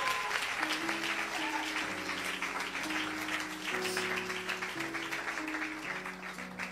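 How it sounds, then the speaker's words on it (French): A church congregation claps steadily and warmly, sustained applause throughout, with a sustained keyboard chord progression underneath. "Clap for Jesus."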